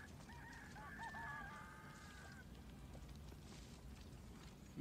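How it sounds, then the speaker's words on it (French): Roosters crowing in the video game Far Cry 6, a long drawn-out cock-a-doodle-doo clearly heard over a busy, rumbling game ambience, followed by continuous background noise. "Il me stresse tous ces coqs là."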